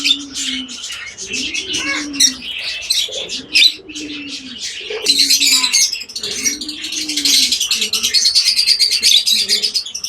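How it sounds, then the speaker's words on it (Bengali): A brightly colored cockatiel chirps in quick, high, dense bursts across the whole stretch, while deep rolling pigeon coos swell and fade underneath at regular intervals. "কোকাটেল পাখি, কালারটি অনেক সুন্দর"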